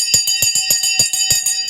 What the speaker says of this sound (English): The bell has just gone.